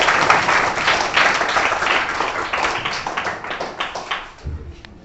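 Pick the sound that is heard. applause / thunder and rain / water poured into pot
applause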